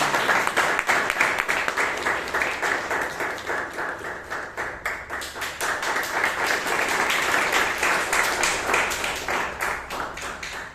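An audience applauding at a Toastmasters club meeting in Bangalore, sustained dense clapping from a roomful of people that swells and dips slightly but carries on throughout.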